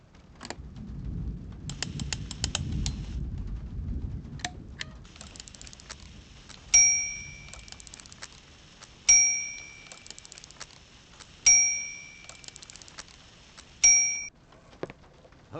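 Three clear bell chimes ring at even intervals in the Syberia video game, each one a bright ding that decays slowly over quiet background ticks and rumble.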